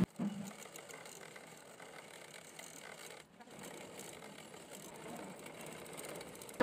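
A sewing machine runs steadily, stitching a double-folded fabric edge on an Anarkali frock, a continuous mechanical whir at moderate volume with a brief pause midway and no talking.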